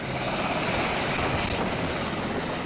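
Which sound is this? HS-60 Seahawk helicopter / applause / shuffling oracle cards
HS-60 Seahawk helicopter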